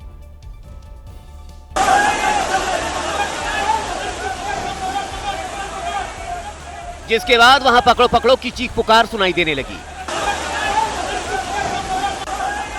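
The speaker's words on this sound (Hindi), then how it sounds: "पानी से भरी एक सड़क पर एक व्यक्ति बहने लगा।" Floodwater rushes loudly along a submerged street after heavy rain, a continuous roaring wash with a burst of shouting voices partway through, while a narrator speaks over the scene.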